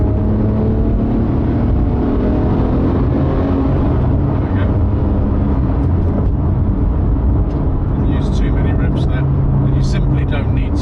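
A Porsche GT3 with its 4.0 engine accelerates, a loud low droning engine note with heavy wind rumble throughout, heard from inside the car, with brief higher chirps near the end.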